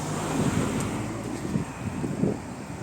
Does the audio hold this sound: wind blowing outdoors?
yes